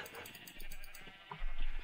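Sheep bleating in a survival video game: a couple of short, wavering bleats, fairly close and clear, over a soft game background.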